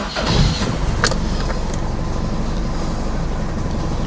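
A 2000 Toyota Soluna GLi automatic starts up, a brief crank burst settling into a loud, steady low engine idle close by, with no voices.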